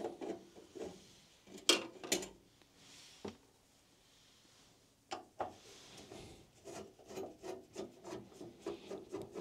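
Someone removes screws from an old Windows XP desktop computer, with faint scraping and rubbing of a screwdriver, brief metallic clicks, and a rhythmic run of small scratchy turns toward the end, heard close and quiet.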